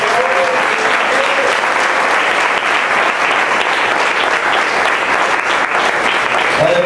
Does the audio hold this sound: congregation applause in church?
yes